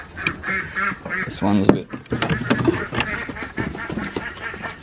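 Ducks quack repeatedly in a farmyard, a cluster of nasal calls at moderate distance mixed with other fowl sounds, while a person talks over them.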